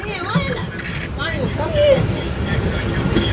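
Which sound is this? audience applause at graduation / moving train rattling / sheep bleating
moving train rattling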